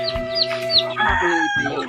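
Several chickens cluck and squawk in quick, overlapping bursts close by, with sharp rising calls and a crow-like cry mixed in, all within a couple of seconds.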